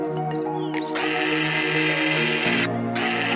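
Power drill in a VR screw-driving training simulation, a loud whirring drill motor spinning up and running steadily with a short pause and restart, close and alone without talking.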